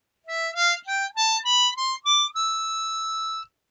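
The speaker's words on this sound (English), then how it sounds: "now we're playing a Phrygian diatonic harmonica" A C harmonica played in fifth position runs up a Phrygian diatonic scale, seven short clean reedy notes climbing step by step, then a final note held for about a second, close and alone.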